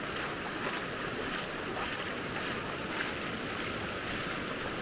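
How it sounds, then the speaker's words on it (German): Ocean surf rolls onto the beach at Maspalomas, Gran Canaria, in the morning: a steady, broadband wash of waves with wind buffeting the microphone, continuous and fairly close with no voices. "Morgens am Strand von Maspalomas."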